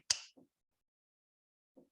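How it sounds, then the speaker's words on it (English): A single sharp finger snap cracks out close and clear in a quiet room, followed by a couple of faint murmurs. "I will snap my fingers and you will wake"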